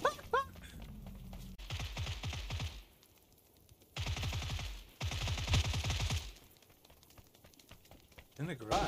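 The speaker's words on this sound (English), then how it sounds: "Oh, is that somebody shooting at us?" Bursts of rapid automatic gunfire in PUBG, several clustered volleys of sharp shots with short quiet gaps between them, fairly close, as a voice talks at the start.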